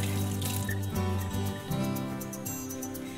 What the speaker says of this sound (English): Just wash my hands off real quick.